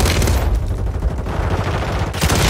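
Rapid SMG fire in Call of Duty Warzone on Rebirth Island, loud dense bursts of automatic shots crackling continuously, with a brief pause near the end before the firing resumes.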